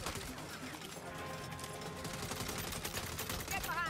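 Turret gunfire in Saints Row, rapid continuous bursts of shots crackling densely throughout amid chaotic combat noise, with voices faintly mixed in.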